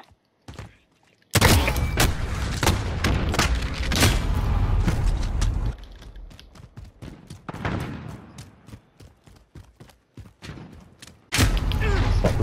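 Gunfire in the Gun Game mode of a shooter video game: loud bursts of rapid shots and thuds, with dense sustained volleys, brief pauses, and a renewed burst at the end, close and punchy.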